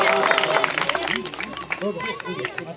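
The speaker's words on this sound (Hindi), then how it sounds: "जोरदार तालियां" Applause from an audience at a retirement ceremony, a steady wash of clapping mixed with crowd chatter and voices throughout, fairly close and moderately loud.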